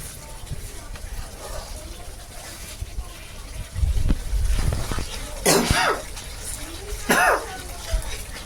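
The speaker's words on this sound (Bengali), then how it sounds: "একটু কাশি হবে আপনাদের" A few sharp coughs break out in the second half, loud and close, over background clatter of frying spices while cooking.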